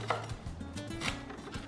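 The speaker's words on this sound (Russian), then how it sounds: "Режу укроп." A knife chopping dill on a board, a few quick soft cuts heard faintly under quiet background music.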